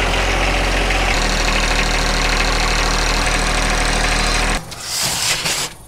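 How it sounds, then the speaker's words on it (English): A tractor engine on an off-grid homestead idles with a deep, steady, loud rumble that shifts pitch partway through, then drops away as a brief burst of broadband noise follows. "so I'm gonna go and grab the tractor"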